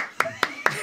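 Three quick, sharp claps at an even pace from the directing crew in a broadcast studio, close and crisp, with a voice continuing underneath.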